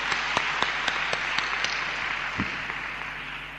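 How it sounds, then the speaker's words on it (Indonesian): Church congregation applauding at a worship service to welcome Pastor Florin from Romania: a steady wash of many hands clapping at moderate volume, with a few sharper individual claps standing out, and no talk over it. "Mari beri tepuk tangan."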